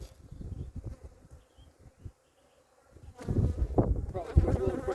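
Honeybees buzz around a newly brought home beehive, close and steady. The buzz drops out briefly, then swells louder, with a person's voice mixed in.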